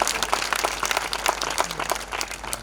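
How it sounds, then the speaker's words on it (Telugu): A church congregation at a dedication meeting claps together, a moderate, fairly even patter of many hands with distinct individual claps standing out, heard from some distance in the room. "చప్పట్లు కొడతాం అందరం"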